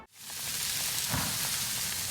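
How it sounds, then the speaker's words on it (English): Steady crackling sizzle of chocolate chip cookies baking in an oven, close and even, with no talking. "You can hear them sizzle, sizzle."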